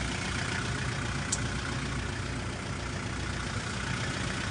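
A 2004 Hyundai Porter double cab one-ton truck idles with a steady, close engine drone and an even low rumble, alone and without voices.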